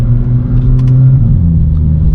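A BMW M2 engine droning low and loud at close range on a wet mountain road, a steady rumbling hum with the tires spinning, and no talking.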